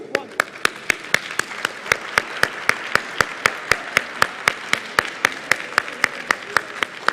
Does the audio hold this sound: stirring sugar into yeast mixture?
no